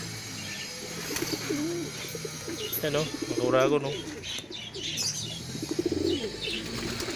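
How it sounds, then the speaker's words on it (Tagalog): Pigeons coo softly close by with a few bursts of wing flapping, while people talk over them outdoors. "Yan mga alaga nating kalapati oh."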